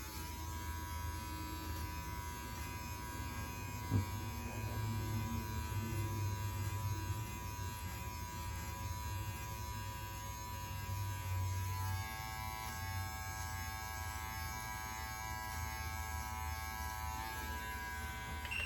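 A Brio Beardscape Pro beard trimmer with its zero blade runs continuously, a steady electric buzz with a tonal hum that changes pitch briefly near the middle, heard alone and fairly quiet.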